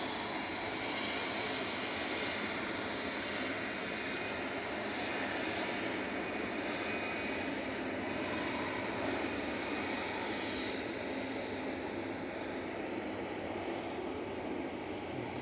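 Engine roar of an Airbus A220 in Turkish Star Alliance livery at Manchester Airport, a loud, steady broadband jet rumble that holds without a break.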